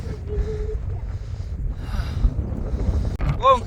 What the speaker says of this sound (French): Bon, il y a beaucoup de vent.